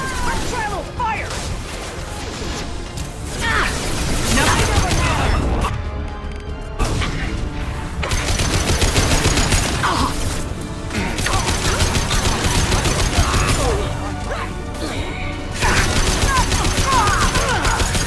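Sustained gunfire and crashing impacts from a Mass Effect 2 firefight against Eclipse mercenaries, dense and loud throughout, with brief dips between bursts over a steady bed of game music and effects.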